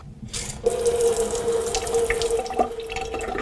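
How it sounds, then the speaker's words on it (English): Liquid pours into a bowl in a steady, splashing stream for about two seconds, then stops, ending with a small drip and a light knock, all close by and without speech. "We're gonna pour a little bit of this into the bowl."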